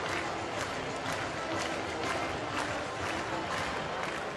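A baseball stadium crowd at a Phillies at Pirates game in Pittsburgh makes a steady, dense murmur and roar that stays constant without clear peaks.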